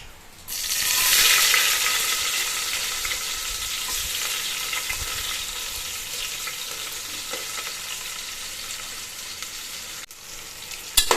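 Chopped onions hit hot oil and ghee for a tempering after the mustard seeds have popped, bursting into a loud sizzle that settles into a steady, close crackling fry with no voices.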